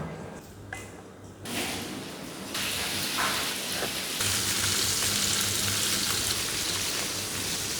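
Chili powder, pepper and turmeric fry in hot oil for fried rice, a sizzle that starts faint, then jumps to a loud steady hiss after a couple of seconds and swells further, close by with no talk.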